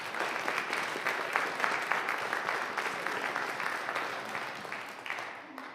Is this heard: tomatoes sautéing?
no